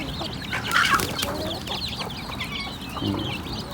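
A brooding native hen clucks close by in short repeated bursts, with other birds chirping faintly in the background.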